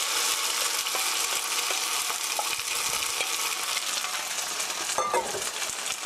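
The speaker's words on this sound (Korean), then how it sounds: "기름을 가장자리까지 한번 돌려주시고요. 자, 채 썰어놓은 포테이토 감자 넣어주세요." Shredded potatoes for hash browns fry in oil in a pan, giving a steady, loud, close sizzle that hisses without a break from start to finish, with a few faint utensil taps and no voices.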